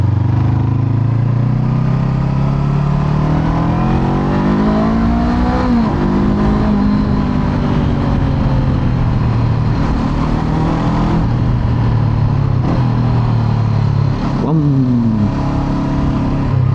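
A 2021 Honda CB500X motorcycle engine drones continuously while riding, its pitch rising and falling with throttle changes and gear shifts, steady and close throughout.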